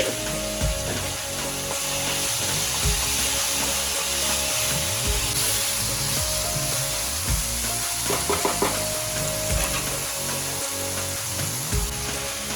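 Salted potatoes frying in a pan for a sago (javvarisi) kichdi, stirred with a utensil: a steady, even sizzle runs throughout, broken by repeated scraping strokes against the pan, close and alone.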